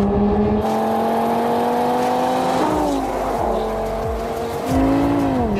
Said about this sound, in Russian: Двигатель у этого автомобиля абсолютный шедевр.